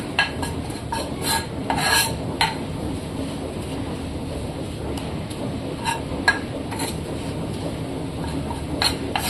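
Maida flour being stirred and roasted in a pan for white sauce pasta, a close, dry scraping and rubbing with irregular strokes and occasional sharper clinks of the utensil against the pan.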